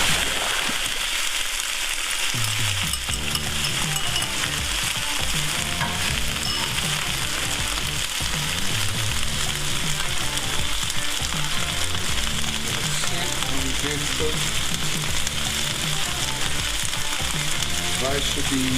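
Rice and egg fry in a pan for fried rice with a constant, loud, crackling sizzle. Stirring and scraping come through intermittently, with no talking.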